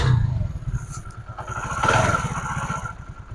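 A motorcycle engine runs close by with a fast, even pulsing thump, a light mechanical clatter and a brief throttle swell in the middle.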